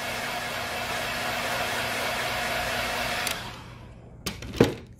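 A heat gun or hair dryer blows hot air to loosen an iPhone 8 screen during repair, a steady close whooshing drone that stops partway, followed by a few small handling clicks and taps.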